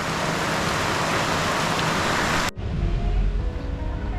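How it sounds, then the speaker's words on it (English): Heavy rain in the mountains near Ubud, Bali roars as a loud, dense, steady wash, then cuts abruptly to a quieter rumbling outdoor scene. "see if it stops raining so heavily"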